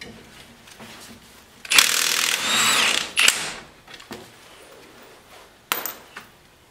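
A ratchet with a 21 mm socket and swivel breaks loose and spins out a brake caliper adapter bolt on a 2005-2010 Jeep Grand Cherokee WK, a loud creaking crack followed by a rapid clicking burst and short clicks.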